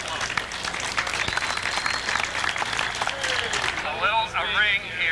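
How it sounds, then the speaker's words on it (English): An audience gives a sustained round of applause for the hosts at a University of Tennessee at Chattanooga event, steady clapping throughout with a voice speaking over it near the end. "Please give them a round of applause."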